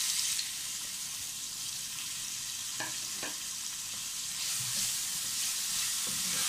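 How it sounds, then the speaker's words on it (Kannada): Sliced onions hit hot oil in a pan and sizzle steadily with a bright, close crackle, with a few soft stirring clinks as they fry for a sweet potato rava dish. "ಈಗ ಇದಕ್ಕೆ 1 onions ಬರೀ ಉದ್ದಕ್ಕಾಗಿ ಕಟ್ ಮಾಡ್ಕೊಂಡು ಇದನ್ನು ಹಾಕ್ತಾ ಇದ್ದೀನಿ"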